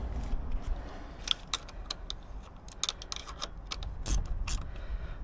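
Pinch bolts are snugged on the front of a Yamaha T7 adventure motorcycle with a hand tool, producing a run of light, irregular ticks and clicks, close and faint, with no talk.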